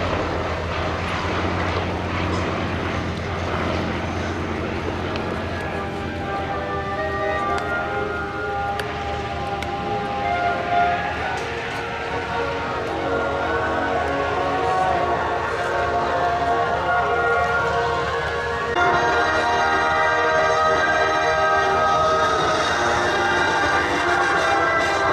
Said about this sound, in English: Not a formation we've seen before of the Swordfish and the Nimrod.